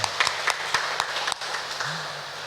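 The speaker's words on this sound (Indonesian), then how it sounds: "Karena itu kita sambut dengan tepuk tangan." A church congregation at a Sunday service claps, scattered and fairly thin applause with a few distinct sharp claps over a steady room murmur.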